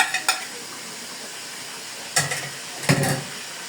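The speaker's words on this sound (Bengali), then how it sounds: "মশলাটাকেও ভালো করে কষিয়ে নেব, সাথে এক এক করে অন্যান্য মশলাগুলো দিয়ে দিব" Onion paste and spices frying in a pan, with a soft continuous sizzle broken by a few sharp scraping stirs of a spatula, close and fairly quiet.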